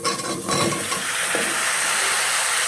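Chopped vegetables go into a hot pan with fish, aubergine and potato, giving a loud steady sizzle and hiss that swells and holds, with a faint clink of a utensil near the start.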